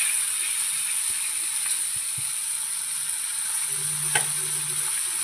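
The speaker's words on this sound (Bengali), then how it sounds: "যত ঘন ঘন উল্টানি ওবার তো মাছটি সুন্দর মতো ভাজা হইব।" Fish fries in a pan with a constant high hiss of sizzling oil, punctuated by a few faint clicks and taps of turning.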